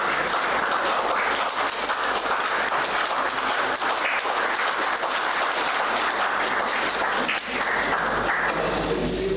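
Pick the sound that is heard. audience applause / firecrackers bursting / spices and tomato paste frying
audience applause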